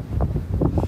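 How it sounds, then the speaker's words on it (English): Strong wind buffets a microphone on the seafront at Plymouth Hoe during Storm Francis, a close, continuous rumbling roar with gusty surges. "bear with me because it is slightly windy here"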